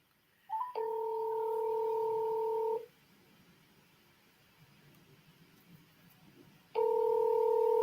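Two steady dual-tone telephone dialing tones sound while a caller is being added to a conference call, each held for about two seconds with a quiet gap of faint line hiss between them.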